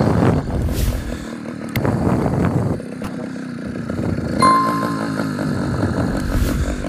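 A small 80cc motorized bicycle engine idles unevenly and revs in short bursts, a loud close buzzing rattle that rises and falls.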